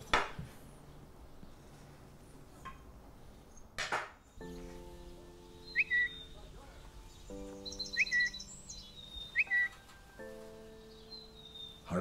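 A phone ringtone of chirping birds plays loudly and nearby: short, bright chirps repeat every couple of seconds over sustained, steady electronic tones, with no talking.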